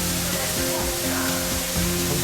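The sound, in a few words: Elephant Falls waterfall, Dalat, Vietnam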